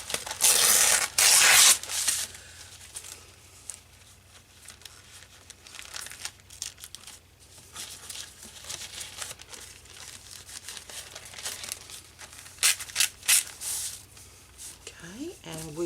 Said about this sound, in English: This is Tim Holtz tissue wrap, so let's just cut a bit off and tear a bit off.